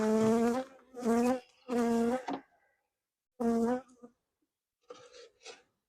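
Honey bees buzz around an open hive during an inspection after a colony split in Wisconsin, with loud, close droning bursts sweeping past one after another, separated by short gaps.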